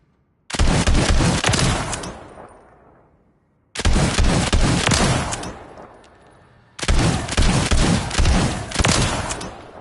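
Cast-Off LSW light machine gun firing in Call of Duty MW3, three loud sustained automatic bursts of rapid shots, each cutting off and trailing into a short echoing tail before the next.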